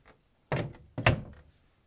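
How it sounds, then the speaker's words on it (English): The door of an LG/Kenmore front-loading washing machine is shut, giving two close, dull thunks in quick succession, the second one louder, with quiet surroundings. "Now we're going to close the door."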